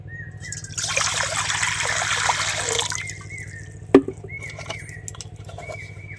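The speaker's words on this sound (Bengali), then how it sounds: "এদিকে কড়ার মধ্যে আমি জল দিয়ে দিচ্ছি।" Water pours steadily into a kadai cooking pan for about two seconds, with a continuous splashing gush over a low stove hum. A single clank of utensil against the pan follows, then faint dribbles and a few soft tones.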